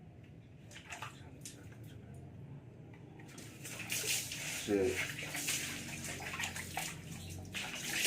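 Water splashes and pours in bursts, scooped with a dipper and tipped over someone bathing, with a brief spoken word early on.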